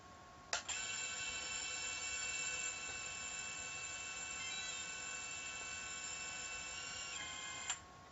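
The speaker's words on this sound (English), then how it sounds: "You can hear the buzzer going off." A quadcopter's buzzer sounds a steady, multi-tone electronic whine that holds for several seconds with a sharp click at the start and end. It is faint but continuous.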